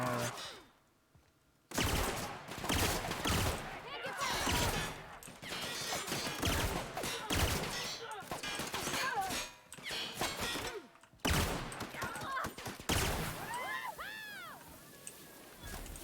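Bolter pistols fire in The Outer Worlds, sharp bursts of gunshots in a rapid, chaotic firefight with impacts and clatter, mixed with game effects and voices.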